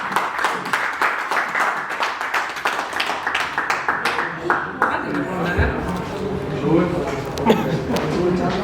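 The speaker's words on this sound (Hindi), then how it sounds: "एक बार जोरदार तालियों से स्वागत करते हैं तबरेज़." At a shayari recital event, an audience claps to welcome a performer in a quick run of sharp, scattered claps for several seconds before a voice takes over and talk continues under fading applause.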